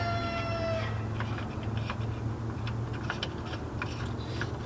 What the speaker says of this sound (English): that chicken's being very vocal. I mean, rooster.